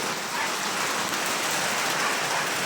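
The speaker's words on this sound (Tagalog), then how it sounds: "Malakas na yung ulan." Heavy rain falls in a steady, dense rush of drops drumming on a surface, constant and close.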